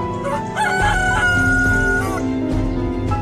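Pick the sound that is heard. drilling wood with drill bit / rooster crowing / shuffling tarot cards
rooster crowing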